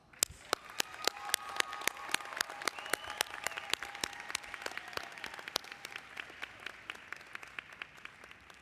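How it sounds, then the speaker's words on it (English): An audience at a 2025 commencement ceremony for the McWilliams School of Biomedical Informatics at UTHealth Houston applauds its graduates with steady, moderately distant clapping that carries on for several seconds, sharp individual claps standing out from the crowd. "Please give our graduates another round of applause."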